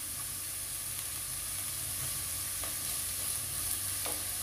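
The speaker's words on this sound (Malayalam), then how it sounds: "വളരെ കുറച്ച് കറിവേപ്പില ചേർത്ത് കൊടുക്കാം." Curry leaves fry in a pan over a steady, fairly faint sizzle and hiss, with a couple of soft utensil taps and no voices.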